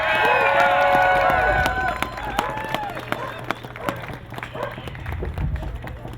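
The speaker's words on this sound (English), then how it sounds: "Let's give a big round of applause." Audience applause and cheering for a tribal chairman at an outdoor gathering, loud clapping from a crowd that swells at first and then thins into scattered claps and shouts over a low hum.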